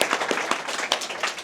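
Short burst of audience applause at a book talk event, a quick patter of many hands clapping at moderate volume.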